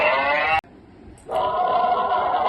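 Cattle mooing in two long, loud, nearby bellows separated by a short quiet pause.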